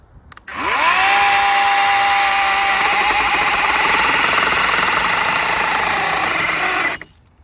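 A small lithium-ion battery-powered mini handheld chainsaw whines loudly and close as it bites into wood, a sustained high motor drone lasting about six seconds before cutting off abruptly.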